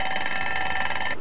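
A wristwatch alarm rings in a steady, loud electronic trill, bright high tones pulsing rapidly for about a second before cutting off, with no voices over it.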